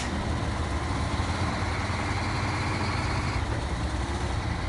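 A heavy truck engine in the Snowrunner video game drones steadily and loudly throughout, a dense low rumble with constant mechanical roar and no pauses.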